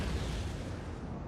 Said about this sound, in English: That cannon shot bounced off the trees.